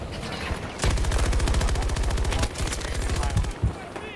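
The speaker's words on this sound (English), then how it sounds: "Why am I shooting?" Video game gunfire, a long loud rapid burst of automatic shots with a brief pause midway, then a few more shots near the end.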